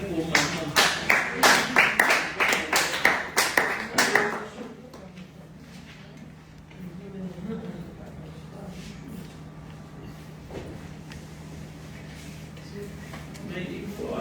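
A small group claps to cheer for mum, a quick run of loud, close hand claps lasting a few seconds, then fading into quieter room sounds with people talking.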